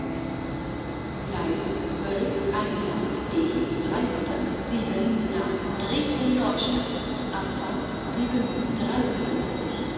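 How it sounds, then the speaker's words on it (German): A train rolls in beside a busy platform at a German railway station, a steady rumble and rattle of carriages filling the space while voices murmur and chatter throughout. "Caution, the train is arriving."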